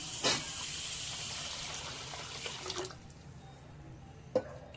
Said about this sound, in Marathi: आता ह्याच्यामध्ये पाणी टाकायचं